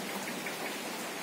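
Heavy rain pours steadily around a small veranda, a dense, unbroken wash of close drops hitting surfaces, with no voices.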